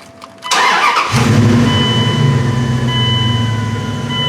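A Dodge Ram's engine cranks on the ignition key for a moment, then catches and settles into a loud, close, rumbling idle that continues to the end.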